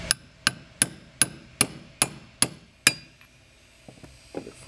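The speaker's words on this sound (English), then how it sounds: "Some people lightly tap it with a socket." A metal socket lightly taps a cap onto a plunger, eight evenly spaced sharp metallic clinks ringing briefly, then a few softer, quieter knocks near the end.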